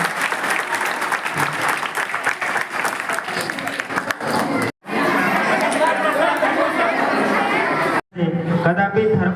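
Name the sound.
applause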